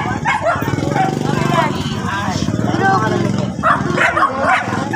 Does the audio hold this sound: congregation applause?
no